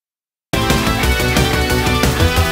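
An Oberheim OB-X style analog synth emulated by the free OBXD plugin kicks in after half a second of silence, playing a dense, steady, rhythmic patch that stays loud and full to the end with no talking.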